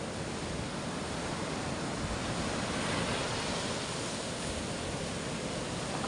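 Steady roar of ocean surf, broad and loud, with big waves washing continuously and no pauses or voices.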